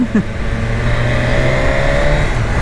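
A BMW S1000RR sport motorcycle's engine drones loud and close at a steady, high-pitched cruise with a brief rise in revs near the start, with no voices over it.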